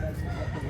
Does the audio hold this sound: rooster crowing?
yes